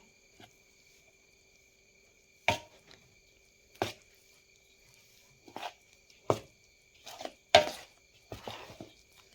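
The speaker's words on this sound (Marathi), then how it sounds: "तर ह्याच्यामध्ये पाक टाकून घेतलेला आहे तर आता हे मी मिक्स करत आहे" A utensil knocks against a vessel as syrup is mixed into a laddu mixture, giving sparse, irregular thuds separated by quiet gaps, with a faint steady hum in the background.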